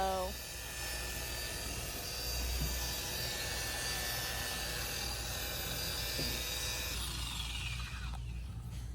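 An electric polisher with a compound pad buffs car paint during an old car's paint restoration, giving a steady close whine with a tonal hum that cuts off near the end.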